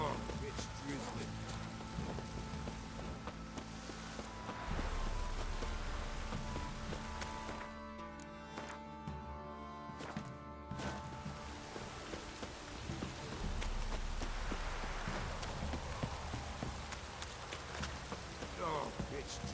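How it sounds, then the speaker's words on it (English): Light rain drizzling in the video game The Witcher 3, a steady soft patter throughout, mixed with footsteps, ambient game sounds and background voices. "Oh, it's drizzling."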